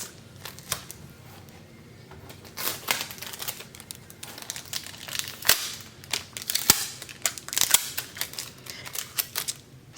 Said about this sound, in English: we're just trying to remove this foil surface